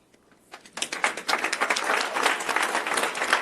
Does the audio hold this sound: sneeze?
no